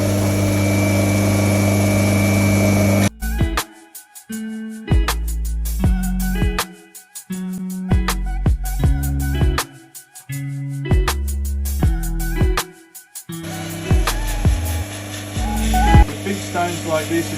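A lapidary grinding wheel working a rough opal, a steady loud motor hum broken by repeated stuttering bursts and pauses as the stone is pressed and lifted, then the whir resumes continuously, with no talking.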